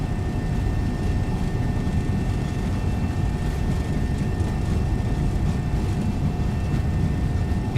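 MD-11 jet engines at takeoff thrust during the takeoff roll in the X-Plane 12 flight simulator, a loud, steady, broadband roar and rumble with no break.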